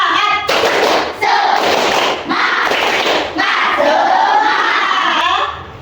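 An Indonesian school class chants the "tepuk semangat" spirit cheer together in bursts while hands clap in a quick rhythmic pattern, loud and close, with pauses between phrases.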